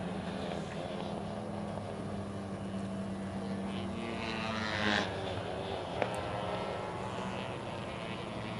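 Honda one-make race motorcycles on the back straight during the last lap, a steady, droning engine roar heard from a distance without break, with no speech.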